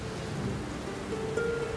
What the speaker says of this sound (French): Tu ne vois pas qu'il pleut dehors?